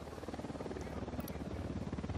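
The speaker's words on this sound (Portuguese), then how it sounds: "Helicóptero da unidade, se abaixe." A helicopter in a video game: rapid, even rotor thumping with a buzzing engine drone, close and steady throughout, with faint game effects in the background.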